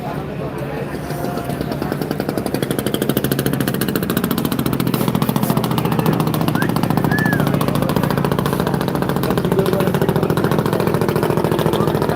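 Steady engine drone of a large passenger launch departing Chandpur, a continuous rumbling throb that stays loud and even throughout, with a voice talking over it.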